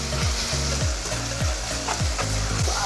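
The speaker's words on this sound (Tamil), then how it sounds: "ஸோ இது எல்லாத்தையுமே வந்து வதக்கி விட்டுட்டே இருப்போம்" Mint and coriander sauté in a pan for vegetable pulao, with a steady loud sizzle and a rhythmic scraping stir roughly every half second.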